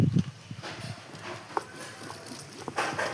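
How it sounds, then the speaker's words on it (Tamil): Coconut, onion and tomato are ground on a traditional stone wet grinder for a fish curry, making an uneven, close, knocking and scraping roll of stone on stone with faint background noise. "இது மூணுமே ஆட்டுக்கல்ல அரைச்சி எடுத்துக்கலாம்"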